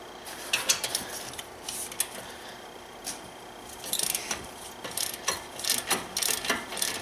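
A long half-inch ratchet working on the E-Torx bolts of a front brake caliper bracket on a BMW X5 E70, giving bursts of rapid clicking close by, alone with no voices.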